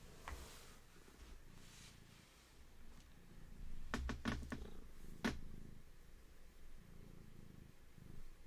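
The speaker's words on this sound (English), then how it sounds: "Little sound of Henry purring" Domestic cat named Henry purring close to the microphone, a faint, low, continuous rumble broken by a few sharp clicks and taps near the middle.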